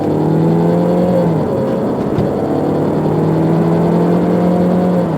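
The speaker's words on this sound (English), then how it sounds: "you can see how nice and quiet this car is as it goes down the road" A 2003 Saab 9-3 Arc driving down the road, heard from inside as a steady, smooth engine hum and road whir. Two gear changes break the drone, and no one speaks.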